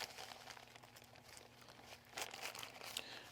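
Paper towel crinkling and rustling close by as it is grabbed and handled to wipe oil off a P200 diaphragm pump, a soft continuous scrunching over about three seconds.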